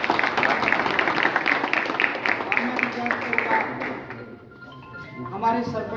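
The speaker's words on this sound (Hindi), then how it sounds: "जोरदार तालियों से भी।" Loud, dense applause fills a Haryana Valmiki Mahasabha community meeting for about four seconds, then fades to quieter room noise with a voice speaking over it.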